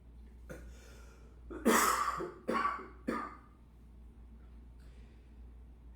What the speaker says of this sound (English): during pranayama practice, get a little cough is entirely normal